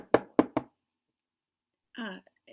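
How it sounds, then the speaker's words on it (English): Three quick, sharp knocks on a door land close together, followed by a pause of silence and then a short burst of a voice speaking. "There is a knock at the door."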